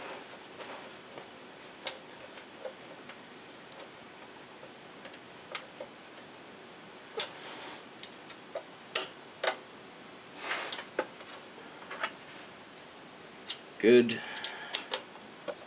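Phillips screwdriver driving screws into a computer case, small dry clicks and ticks scattered across the stretch, quiet and close, with brief speech near the end.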